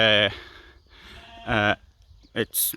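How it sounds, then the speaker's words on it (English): A sheep bleats a few times nearby at a campsite in Poland, short wavering calls separated by quiet gaps, with a faint voice in between. "you may have heard there's a sheep bleating there"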